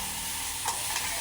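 Tofu fries in a pan with a steady sizzle, broken by a couple of brief scraping stirs close by.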